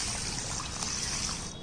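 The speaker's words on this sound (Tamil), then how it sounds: "இதை இப்போ தண்ணி ஊற்றி 4 மணி நேரம் ஊற வச்சுருவோம்." Water pours onto pearl millet and urad dal in a bowl for soaking, a close, steady trickling splash that fades at the very end, with no talking.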